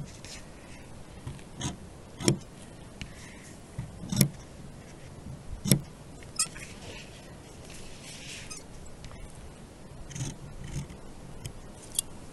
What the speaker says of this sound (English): So now you're going to take your scissors and just cut right up to the edge of the lines.